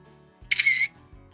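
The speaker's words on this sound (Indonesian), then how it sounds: "seperti itu cara membuat efek jepretan kamera" Camera shutter sound effect added in Filmora editing software: a single quick, bright mechanical click-whir, crisp and close, alone against near silence.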